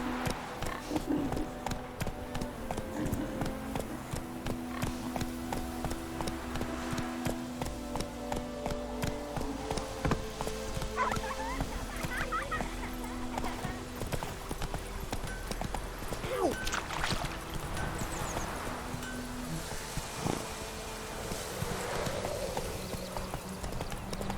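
Roach, Geralt's horse in the video game The Witcher 3: Wild Hunt, with hooves clip-clopping steadily and evenly throughout, mixed with ambient game music and faint background sounds.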